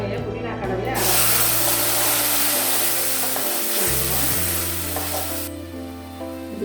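Mint paste sizzles loudly in a pan of hot oil for a few seconds, a dense steady hiss with faint stirring and scraping, close up.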